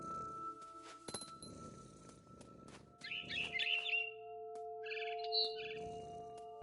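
A mother bird chirps in the game What Remains of Edith Finch, two bursts of high, bright tweets over a quiet tonal backdrop with a few soft clinks.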